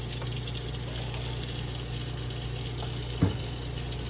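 Leftover photographic fixer poured back into a container, a steady liquid pour with a constant low hum and one small knock near the end.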